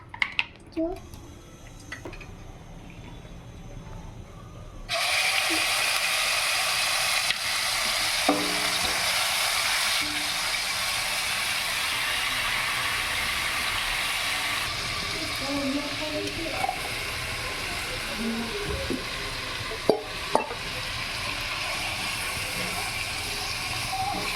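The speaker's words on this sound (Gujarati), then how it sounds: "મમ્મી આ વઘારવાનું ચાલુ કરે છે." After a few quiet seconds, a loud, steady sizzle of spices tempering in hot oil erupts and keeps crackling, with occasional clinks of a utensil.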